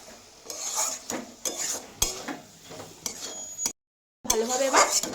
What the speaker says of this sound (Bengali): এবার ভালোভাবে নাড়িয়ে নিচ্ছি।